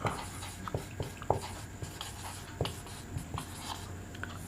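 A pen or chalk writes Sanskrit text, with close scratchy strokes and irregular light taps as each letter is formed against a quiet background.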